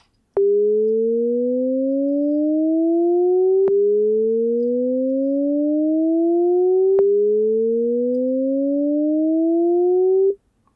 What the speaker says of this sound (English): I'm going to enable the Shepard Tone modulator here, and I'm just going to assign an LFO to it